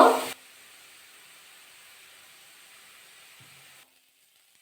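Shredded cabbage drops into hot mustard oil tempered with whole cumin and ginger paste in a kadai: a brief loud burst, then a steady, soft sizzling hiss that continues alone before cutting off abruptly.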